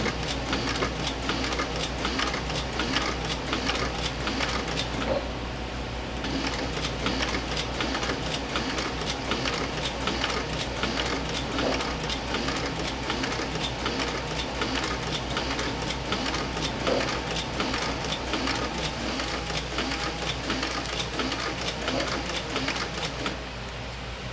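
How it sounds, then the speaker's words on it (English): A sewing machine stitching the inside stitch line of a leather Western saddle, running as a steady fast mechanical chatter for the whole stretch, close and continuous with a brief pause early on. "I'm just stitching this inside stitch line because that's the part that stitches the plugs and the rigging on"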